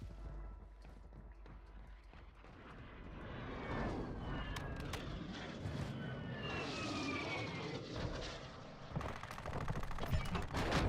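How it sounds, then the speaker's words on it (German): Drone in the Warzone video game flying back to base, a rising and falling propeller-engine whine passing overhead amid a rumbling battlefield mix, moderately loud and with no talk. "Drohne hat keinen Treibstoff mehr. Sie kehrt zur Basis zurück."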